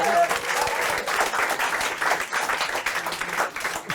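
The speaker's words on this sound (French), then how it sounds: "Applaudissez s'il vous plaît." An audience claps and applauds continuously, a thick, even patter of many hands with faint voices mixed in.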